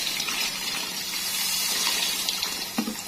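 Water pours in a steady broadband gush into a cooking pot for Moroccan-style couscous, close and continuous with no talk, roughly a liter to a liter and a half being added.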